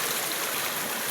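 Steady river water rushes and gurgles over rocks at Laya River in Candulawan, Talisay City, Cebu, a close, continuous broadband flow with no voices.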